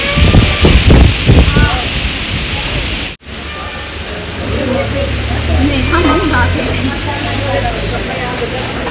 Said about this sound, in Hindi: इतनी तेज आंधी तूफान है कि मैं क्या ही बताऊं